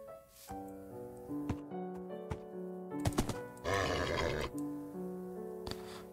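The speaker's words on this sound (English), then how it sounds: "I'm on the horse." A horse in the Minecraft video game gives a grunting whinny amid game music, with scattered clicks and thumps and a louder rough burst midway.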